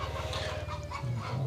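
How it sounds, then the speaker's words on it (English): Hyperactive chickens cluck nearby in a rapid run of short, choppy calls, fairly loud and continuous over faint background hum, with no talking. "Some very hyperactive chickens over there."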